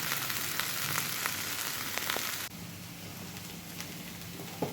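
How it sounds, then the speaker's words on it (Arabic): Lentils drying in a pan over the fire, a steady crackling sizzle like light rain with scattered pops that drops abruptly to a quieter hiss midway, close and with no talk. "هنحطه كده في طاسة ونحطه على النار لما ينشف خالص من المية"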